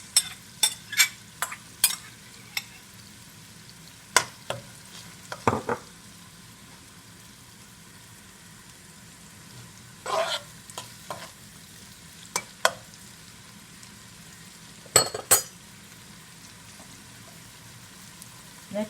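Green seasoning sizzles in a pan as a base for coconut curry fish sauce, a quiet steady fry punctuated by scattered sharp clicks and spoon scrapes, close up with no talking.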